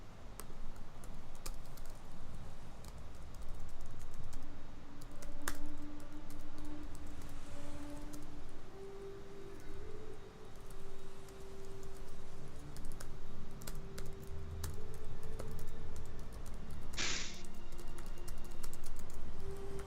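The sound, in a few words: typing on a computer keyboard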